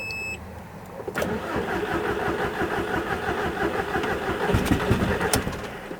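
A crash-damaged Audi TT engine, with no exhaust fitted, cranks and catches, then runs with a loud, rough, unmuffled rumble that continues steadily, close by.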